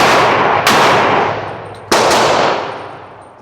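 A Glock 31 Gen4 pistol firing .357 SIG rounds at a range, two loud sharp shots about a second apart, each followed by a long ringing decay.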